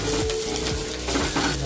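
Curry leaves hit sliced onions browning in hot oil, giving a loud, close, continuous crackling sizzle with occasional utensil scrapes.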